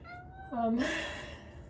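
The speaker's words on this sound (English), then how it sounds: "That's my cat." A domestic cat lets out a single drawn-out, rising and falling meow, fairly close and clear, with a person speaking softly before it.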